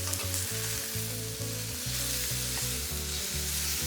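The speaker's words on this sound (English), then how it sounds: "Gorgeous, gorgeous caramelization and sear on this meat." A steak searing in a de Buyer copper pan with olive oil, salt and pepper, giving a loud, continuous close sizzle and crackle with a low steady hum underneath, no voices.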